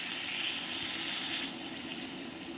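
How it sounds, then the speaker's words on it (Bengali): Hot water pours into chicken kosha cooking in a pot, a continuous splashing, gushing flow that stays steady and fairly loud for a couple of seconds, easing slightly toward the end. "গরম জল অ্যাড করছি।"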